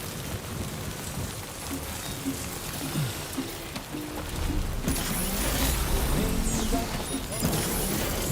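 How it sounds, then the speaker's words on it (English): Rain falls steadily in the video game Death Stranding 2, a continuous wash of patter that grows louder and denser midway, with faint background game sounds and scattered low thumps. "Raindrops are falling"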